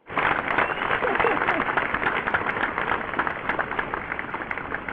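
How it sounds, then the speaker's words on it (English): A studio audience applauds for bodybuilder Ross, a steady wash of clapping close by for several seconds, with a voice faintly underneath. "We got to get an applause for him."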